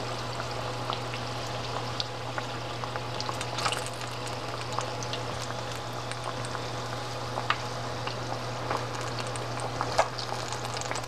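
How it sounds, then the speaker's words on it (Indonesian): Cireng, a fried tapioca snack, deep-frying in hot oil, with steady soft bubbling and crackling and occasional sharper pops over a low constant hum. "Goreng sampai kecoklatan ya."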